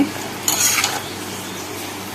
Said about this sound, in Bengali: একসাথে মশলা মাংসকে কড়াইতে ভালোভাবে কষিয়ে নেব